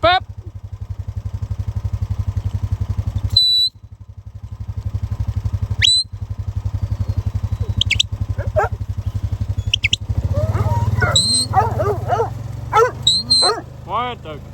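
A dog on an Angus cattle property barks in short yips and howling bursts over a steady low engine drone, with someone talking nearby.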